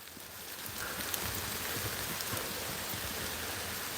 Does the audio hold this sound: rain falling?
yes